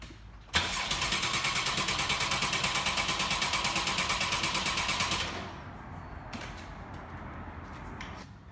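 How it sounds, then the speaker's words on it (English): Porsche 981 engine cranking over on the starter for oil priming, a steady rapid rhythmic churn lasting about five seconds before it stops, then a low quiet hum with faint clicks. "the RPM as it's on the crank will actually increase slightly"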